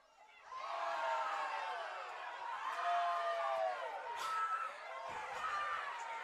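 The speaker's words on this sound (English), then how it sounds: "Maumee crowd going nuts" Home crowd for Maumee at a girls' soccer game, a loud swell of many voices cheering and shouting after a quiet start, sustained with rising and falling peaks.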